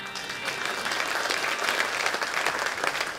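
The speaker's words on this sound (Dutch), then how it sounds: "Applaus voor Korstijn." Audience applause in a one-man comedy show, a steady dense roar of many hands clapping throughout, fairly close and full, with no talk over it.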